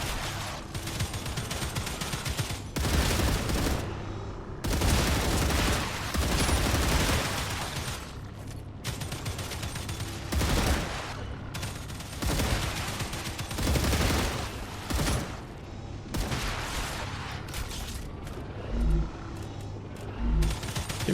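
Sustained bursts of gunfire from the StarRupture video game, loud and dense, with rapid volleys repeating in waves across the whole stretch and brief lulls between them, no talking.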